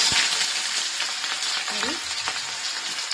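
Sliced onion and curry leaves fry in hot oil in a pan with a steady, hissing sizzle at moderate volume, broken by a brief clink or two of a stirring utensil.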